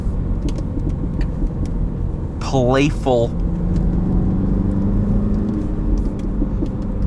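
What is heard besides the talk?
2019 Mini Cooper S stock exhaust engine accelerating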